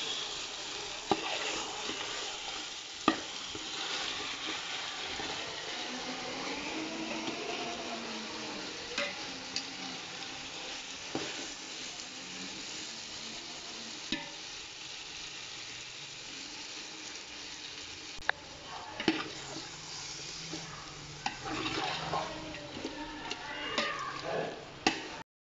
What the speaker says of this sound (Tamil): இந்த டைமில் நீங்கள் சிக்கன் ஆட் பண்ணிடுங்க. அந்த சிக்கன் அந்த மசாலாவோட நல்லா மிக்ஸ் ஆகணும்.